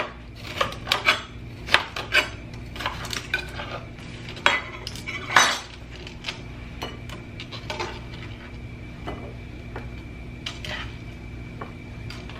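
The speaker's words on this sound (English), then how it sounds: "sorry about the loud chopping noises. I would rather have a butcher's block" A knife chops food on a cutting board with loud, irregular knocks, bunched early and then thinning into lighter taps over a low steady hum.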